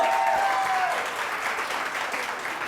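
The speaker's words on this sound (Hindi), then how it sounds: "आपकी तालियों की जो गूंज है वो बता रही है कि कितना एंजॉय कर रहे हैं" Dense, sustained applause from a studio audience at a Hindi-language TV morning show, steady and loud throughout with a brief whistle-like tone at the start.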